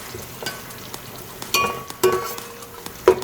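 Onions fry lightly in a pan for pulao, with a soft sizzle under a few sharp metallic clinks and scrapes of a spoon stirring against the pan.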